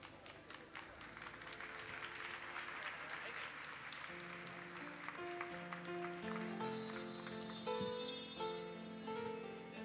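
Audience applause welcoming a swami onto the stage at a Swaminarayan gurukul anniversary celebration, sustained clapping from a hall crowd that swells toward the end, with music and a voice beneath.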